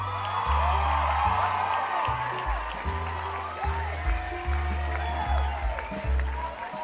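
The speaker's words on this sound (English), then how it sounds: "Round of applause for you." Brief applause with whoops and cheers plays at moderate level beneath a steady thumping musical backing during a stock-trading livestream, lasting several seconds without pause.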